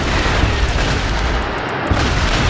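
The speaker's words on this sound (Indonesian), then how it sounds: "Astaga, peluru mereka banyak banget" Dense, continuous gunfire fills Sakura School Simulator, a loud, steady barrage of rapid shots with no pauses.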